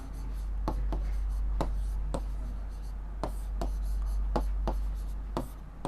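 A pen moves across paper while accounting entries are written out during a class lesson, giving soft scratchy strokes with sharp taps at irregular intervals under a steady low background hum.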